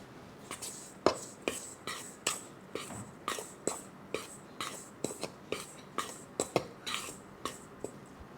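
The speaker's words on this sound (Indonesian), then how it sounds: "Lalu kita aduk rata." A whisk stirring dry wheat flour, sugar and baking powder for sweet martabak batter in a bowl, making a close series of rhythmic scraping, swishing strokes, roughly two per second.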